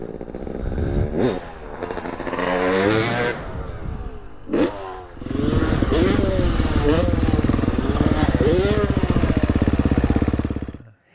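A two-stroke motorcycle engine revs hard and close, throttle blipped again and again in sharp rising whines over a constant rattling drone.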